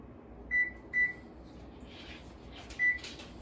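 A kitchen oven's timer being set to 30 minutes gives three short, clear electronic beeps spaced apart, close and fairly loud over a quiet room hum, with no talking.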